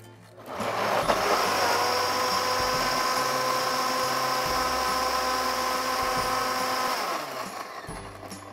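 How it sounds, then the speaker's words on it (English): A blender whirs steadily as it purées chipotle cream sauce, starting abruptly and holding a loud, even motor whine for about six seconds before cutting off, with no talking. "then you blend it until it's smooth and creamy, and we're done. Let's start blending."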